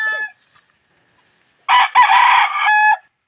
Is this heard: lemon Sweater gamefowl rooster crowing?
yes